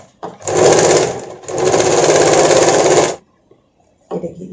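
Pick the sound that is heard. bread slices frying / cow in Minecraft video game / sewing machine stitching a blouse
sewing machine stitching a blouse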